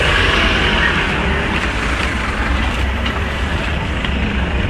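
Busy street traffic heard while crossing a road on foot, a loud continuous rumble of passing vehicles and engine noise with a steady wash of road roar.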